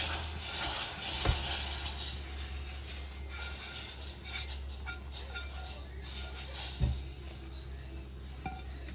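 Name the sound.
dark gumbo roux stirred into simmering broth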